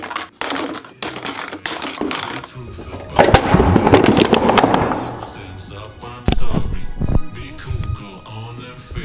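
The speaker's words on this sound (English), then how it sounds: "Crush that can." A soda can is crushed in a can compactor, heard as a run of clattering, crunching metal impacts followed by a dense grinding crush. Voices talk and call out over the noise.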